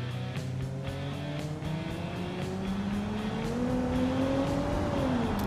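A car rolling downhill in BeamNG Drive, a steady engine drone whose pitch climbs gradually as speed builds, then dips slightly at the end, with tire and road noise underneath, continuous and close.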